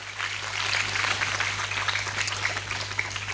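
An audience at a Kannada religious discourse claps to honour a revered swami, producing dense, steady crowd applause with a constant low hum beneath it.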